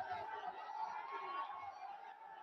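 Large crowd at Prime Minister Narendra Modi's road show, a distant, muffled murmur of many voices, steady and faint throughout the short stretch.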